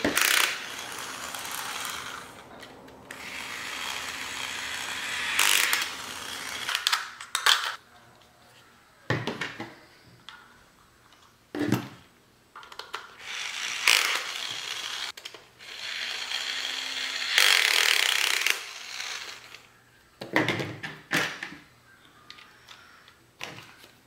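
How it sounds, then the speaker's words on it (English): A toy drill driving screws into a dinosaur robot toy whirs and rattles in short repeated bursts, with quiet pauses and small plastic clicks between runs. "Hey, give me my drill."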